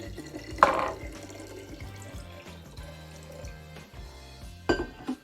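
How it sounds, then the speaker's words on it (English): Plain tap water pours from a sink faucet into a plastic water bottle, a steady running trickle with a couple of clinks and gurgles as the bottle fills. "I'm going to fill it about halfway with water."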